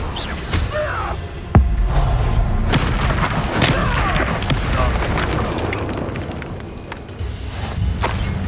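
The Incendio fire spell is cast in Hogwarts Legacy, giving a sharp booming burst with a whooshing crackle amid game combat sounds, and a voice speaks over it.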